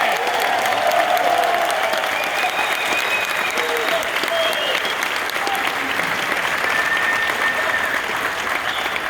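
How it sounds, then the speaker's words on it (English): A conference audience gives Kobe sustained, loud applause that continues steadily from start to finish, with faint crowd voices mixed in. "Let's clap for Kobe for me real quick."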